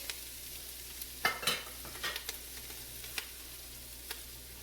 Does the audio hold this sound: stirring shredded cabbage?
yes